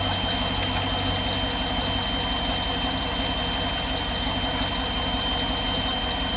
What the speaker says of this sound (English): right now we're just gonna go ahead and we're gonna start the car and let it run.